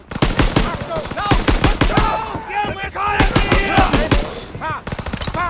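Loud, close gunfire in Call of Duty: WW2 during the Rhine mission, rapid machine-gun bursts and single shots with short pauses, soldiers shouting in between.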